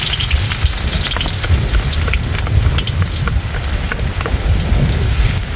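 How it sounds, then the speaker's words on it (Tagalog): Onion and garlic go into hot oil for chicken pastil and crackle loudly, with a dense, rain-like sizzle and scattered sharp pops close up, steady all the way through. "Pag mainit na yung mantika, lagyan natin ang sibuyas at ang bawang."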